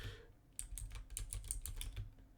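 Rapid keystrokes on a computer keyboard, close and fairly quiet, come in an irregular flurry of clicks after a brief pause at the start.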